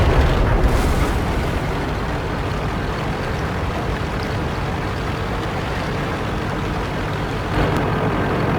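An E75 heavy tank ramming an enemy tank in World of Tanks: a loud, dense rumbling crash of engine roar and impact noise that stays heavy and sustained throughout, with no talk.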